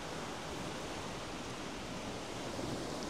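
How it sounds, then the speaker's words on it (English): Steady, dense rush of flowing water in Karura Forest, Kenya, a constant broadband wash heard close and alone with no voices or breaks. "Do you hear that? The peaceful sound of nature. Water on one side, birds in the trees"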